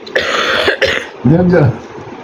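A woman coughs twice in quick succession, then makes a short voiced throat sound, close to the microphone.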